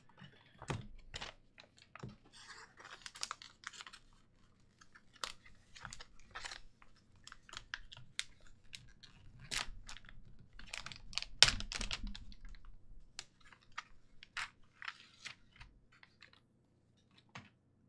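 Fingers type on a mechanical keyboard fitted with freshly installed keycaps. The keystrokes come as close, crisp clicks and clacks in irregular bursts and pauses, with no talking.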